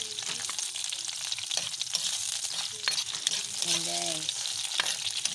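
Crab frying in hot cooking oil in a pan, a steady bright sizzle and crackle running throughout, with a brief spoken word near the end.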